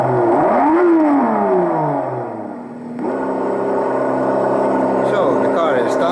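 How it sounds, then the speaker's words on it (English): A 1:24-scale BMW 635 CSi slot car on a test bench, its small electric motor whining loudly and sweeping up and down in pitch as it revs, dipping briefly before climbing back to a steady high-speed whine. "So we're gonna start her up, warm her up and do a flat out run to see what is the top speed of the BMW."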